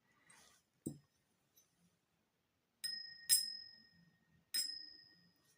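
Three bright ringing tones from a struck vintage hand-carved glass with a silver rim, each with a clear sustained pitch that slowly fades, after a soft earlier tap.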